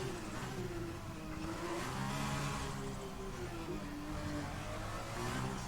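Formula 2 race car lapping the circuit in Azerbaijan, a continuous loud engine drone with rising and falling pitch as it accelerates and lifts, heard steadily throughout with no talk.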